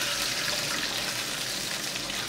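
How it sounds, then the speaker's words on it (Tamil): Water pours steadily into a pan of urad dal while a sweet is being made in a home kitchen, giving a continuous close splashing hiss with no voices. "இப்போ வந்து 3 கப் தண்ணி ஊத்த போறோம்"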